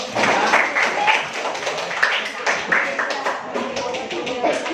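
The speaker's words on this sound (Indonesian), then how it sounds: "Yuk, tepuk tangan dulu dong." Classroom applause from students after a group is called up to present, a dense patter of many hands clapping at close range, steady for several seconds with voices mixed in.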